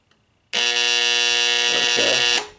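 A darkroom timer's buzzer cuts in abruptly after a faint click, holding a loud, harsh, steady electric buzz for about two seconds before cutting off.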